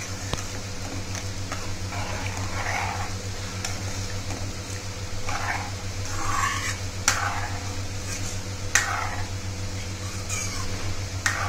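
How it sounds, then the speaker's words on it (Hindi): Kadhi being stirred in a pot on the stove, a low steady simmer under repeated soft scraping strokes and occasional sharp clinks of the spoon against the pot. "और फिर इसको हम बराबर चलाते रहेंगे"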